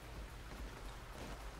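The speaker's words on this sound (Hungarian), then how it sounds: "Idegesítenek az esőcseppek." Faint, steady rain patters continuously in the video game Payday 2, a soft hiss of raindrops with no breaks and no voices.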